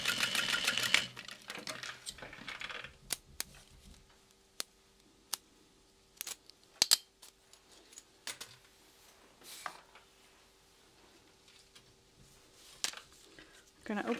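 A sewing machine stitches a backpack seam, giving short bursts of rapid ticking stitches separated by pauses, close and moderately loud.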